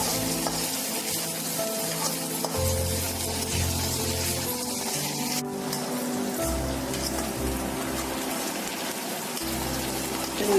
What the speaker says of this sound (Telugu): వేగిపోయినాయి ఉల్లిపాయ కూడా.